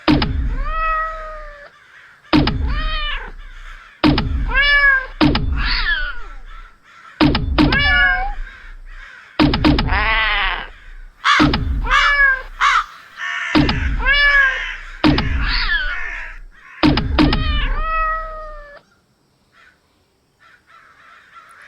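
Radio play sound effects set cat meows and crow caws close together in a loud, chaotic burst of about a dozen calls with thumps mixed in, and the racket stops abruptly near the end.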